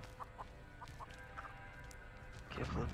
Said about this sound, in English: Oh, the chicken! Don't go near that fucking chicken.